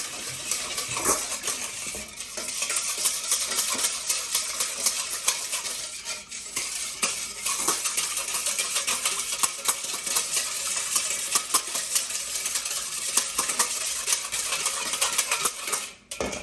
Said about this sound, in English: We're gonna whisk this around.